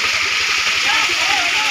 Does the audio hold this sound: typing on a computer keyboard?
no